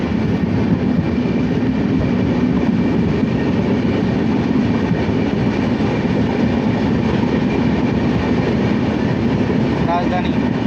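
The Howrah Rajdhani express train rushes past at close range, a loud, steady roar of wheels and carriages with rhythmic rail clatter filling the whole stretch without letup.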